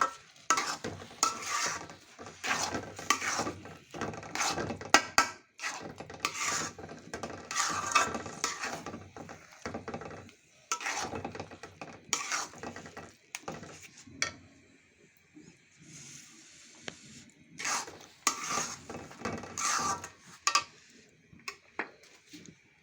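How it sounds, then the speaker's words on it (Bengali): A spoon scrapes and stirs semolina halwa cooking with ghee in a pan, in repeated bursts of close scraping and soft clatter separated by brief pauses, with no talk. "হালুয়াটা এখন আমি নেড়ে দিচ্ছি।"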